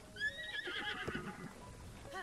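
A horse in Zelda: Breath of the Wild gives a loud whinny with a rising, wavering neigh, followed by snorting and faint hoof clops, fairly close and quiet overall.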